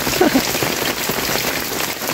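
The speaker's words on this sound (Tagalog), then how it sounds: "Yan, umuulan po." Steady, heavy rain pours down close by, a dense, even patter on surfaces that holds constant from start to finish with no voices over it.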